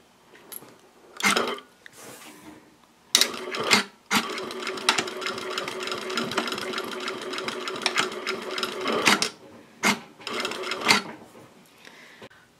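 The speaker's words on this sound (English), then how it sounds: "I'm just going to sew across that seam a couple of times to hold the end of the strap" A sewing machine stitches back and forth across the seam at the end of a minimalist ID wallet strap, running in several loud bursts of rapid needle chatter separated by short pauses and small clicks.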